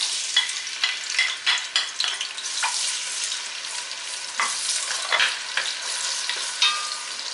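Garlic cloves and onion fry in a hot pan, a steady sizzle broken by scraping stirs and crackling pops, close and moderately loud with no voices.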